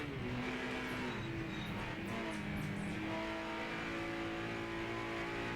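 A race car accelerates hard through a fast kink in the Project Motor Racing video game, among GT icons like a Chevy and a Capri, its engine a loud steady roar with harmonic whine and a brief tire squeal, no voices.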